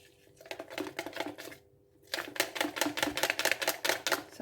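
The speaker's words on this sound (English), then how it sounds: "So give that a whisk." Rapid rhythmic clicking of a whisk beating pancake batter in a bowl, close and continuous, with a brief pause before resuming faster.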